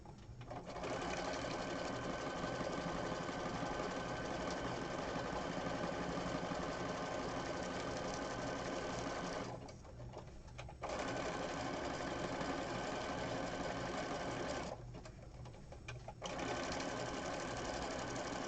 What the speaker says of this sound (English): I'm concentrating on the sewing machine.